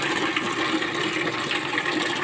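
Water rushes and splashes in a steady, close stream while pet hermit crabs are rinsed, a continuous hissing flow with no pauses.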